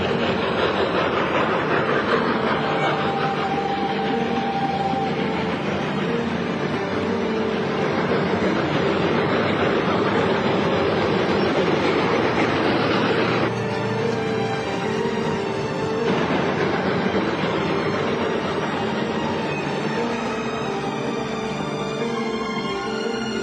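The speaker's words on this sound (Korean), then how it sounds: "승객을 태운 기차는 무사히 다리를 건너게 됩니다" Train crossing a bridge, a loud continuous rumble and rattle of cars rolling over the span with a faint clickety-clack, steady throughout and up close.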